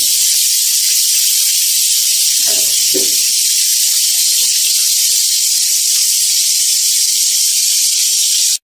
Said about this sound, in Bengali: এরই মধ্যে মাছ ম্যারিনেট হয়ে গেছে, তো এটা আমি ভেজে নিচ্ছি।